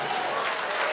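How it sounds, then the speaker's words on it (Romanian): Dense crowd applause at a live folk music and dance show in Montreal, a steady wash of clapping throughout this very short moment. "Aplauze furtunoase!"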